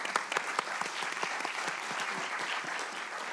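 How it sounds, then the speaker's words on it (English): An audience at a 2023 TiE CIO roundtable applauds its panel, a soft, somewhat distant wash of clapping with a few sharper individual claps standing out near the start. "Can we give them an applause?"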